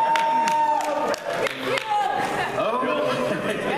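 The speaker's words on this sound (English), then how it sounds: "Your rooting section is cheering you on for the brilliant play that you just made" An audience at a Pokémon game show cheers and applauds, producing a loud, continuous crowd roar with whoops, while voices talk over it.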